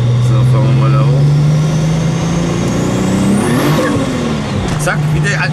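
Turbocharged VW Golf 2 accelerating hard with wheels spinning, a loud close engine drone rising in pitch with a whistling turbo sweep, heard from inside the car.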